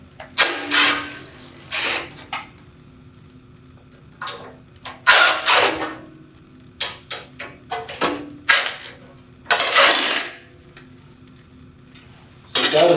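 Phillips screws being backed out of the motor wing on a RAS unit, heard as scattered sharp clicks, squeaks and short whirring bursts of a screwdriver, close up with pauses between turns and no talking.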